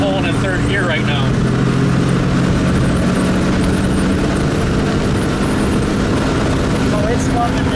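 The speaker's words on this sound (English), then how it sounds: "We're pulling in third gear right now." A 1920 Packard Twin Six runabout, a 90 HP vintage car, pulling in third gear with a window down, its engine giving a steady loud drone with road and wind noise, while people talk over it.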